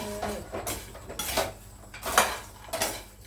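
Thai chili paste with pork cracklings being served onto a plate or tray, with a few distinct clinks and scrapes of utensils against dishware spaced at irregular intervals, close and fairly clear.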